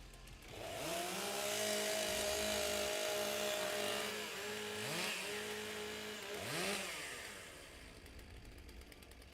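Two-stroke chainsaws warm up at a timbersports competition, revving and idling together, with several sharp throttle blips rising and dropping over a continuous engine drone. They sound moderately close, with no talk over them.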